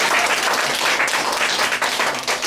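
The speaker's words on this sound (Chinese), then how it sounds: "再一次鼓掌好不好？" Church fellowship audience applauding a pastor's talk, a dense burst of many hands clapping close and loud, sustained throughout with no speech.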